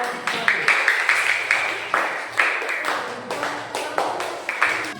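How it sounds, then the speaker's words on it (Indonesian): Classroom applause for a student group, a short burst of many hands clapping nearby at an uneven rhythm, with some voices mixed in. "Tepuk tangan dulu buat kelompok 1."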